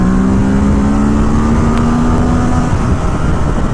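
A 2017 Ducati Monster 1200 R rolls on the throttle from third gear at about 70 mph, its engine roaring loud and close with a steadily rising pitch under heavy wind noise.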